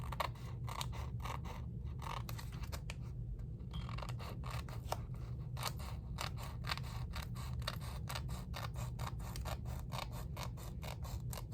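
Scissors snip tape on a paper file folder in a steady run of crisp, close cuts, repeated clicks and rasps going on throughout with no talking.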